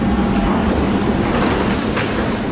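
A train at a Berlin station, a steady loud rumble of rolling cars and running gear that fills the whole short stretch without pause.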